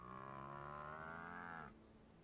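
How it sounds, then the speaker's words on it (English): A cow in the video game Guild Wars Factions gives a single long, loud, close moo that holds steady for over a second and then cuts off, leaving quiet game ambience. "mooing right in my ear over here"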